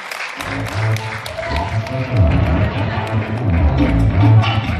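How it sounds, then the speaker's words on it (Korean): A concert audience at a local singer's performance in a city hall venue breaks into warm applause, loud clapping mixed with crowd noise and sustained tonal sound, swelling in intensity toward the end. "자, 다시 한번 뜨거운 박수를 부탁드립니다."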